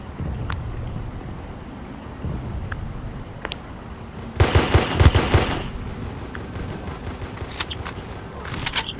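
Machine gun fire in the mobile shooter Guns of Boom: a loud burst of rapid automatic shots cuts in midway, set against a steady bed of game ambience with a few faint clicks before and after.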